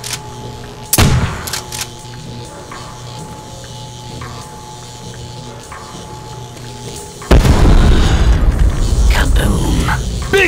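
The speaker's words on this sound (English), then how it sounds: "Kaboom! Big explosion! Big success!" A loud, deep explosion in Call of Duty: World at War's Der Riese map bursts in with a sharp onset and rumbles on for several seconds, following an earlier smaller boom over a steady background hum.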